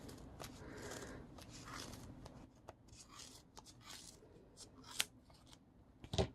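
Scissors snip through the yarn of a pom-pom on a pom-pom maker, close by and fairly quiet, with a soft rustle of fibres and a few sharper cuts near the end.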